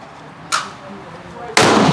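Two sharp gunshots from a Swiss Martini Jagdstutzer rifle, a smaller crack followed a second later by a louder, broader blast with lingering reverberation outdoors.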